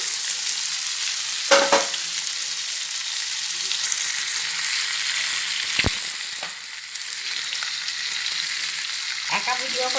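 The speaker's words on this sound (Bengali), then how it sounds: "ডিমগুলো ভাজা হয়ে গেছে, এবার আলুগুলো দিয়ে দিচ্ছি।" Eggs and potatoes frying together in a pan, giving a steady close sizzle broken by a few sharp clatters from stirring.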